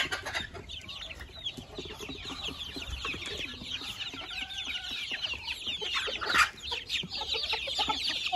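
Chickens and chicks on a small home poultry farm cluck and chatter continuously, with many overlapping calls at close range and one louder squawk near the end.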